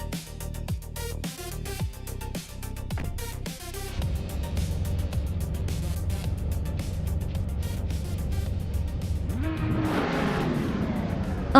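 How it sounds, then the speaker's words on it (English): LMP3 prototype race cars, among them a 2010 Orica FLM09, roar through a racing video game, engines droning steadily with shifting revs and a rising whine as they accelerate, loud and continuous with no talk. "leading the pack from pole position in the LMP3 class, cruising in a classic 2010 Orica FLM09"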